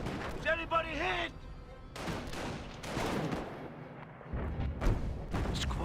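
Artillery fire in the Company of Heroes real-time strategy game, with repeated booming shots and impacts mixed with gunfire, heard under a person talking.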